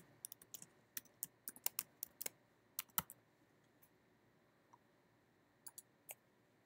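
A password tapped out on a computer keyboard, a rapid run of crisp key clicks that thins out to a few scattered taps, close-up and quiet.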